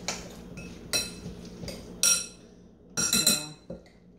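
Butternut squash mac and cheese being stirred in a pot, giving several separate clinks and scrapes of a utensil against cookware in short bursts with quiet gaps between them, close and fairly clear, with no voices.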